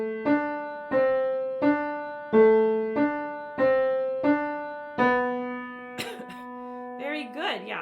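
Piano playing an even eighth-note pattern from Clementi's Sonatina in C Major Op. 36 No. 1, about eight separate clear notes in steady rhythm, with a voice speaking briefly near the end.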